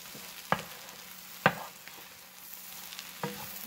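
Scrambled eggs are stirred and mixed in a frying pan over low heat. A faint, soft sizzle runs underneath a few distinct clicks and scrapes of a utensil against the pan, spaced about a second apart.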